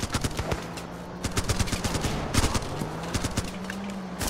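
Rapid AK-47 automatic fire in the video game Running with Rifles, a dense string of close, sharp shots rattling on continuously for several seconds with no talk over it.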